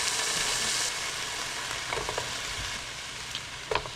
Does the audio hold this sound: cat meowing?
no